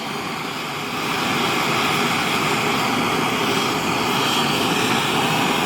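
Loud continuous roar of metal-melting torches heating a crucible's pour spout, swelling slightly after the first second and holding steady and close throughout, with no talking.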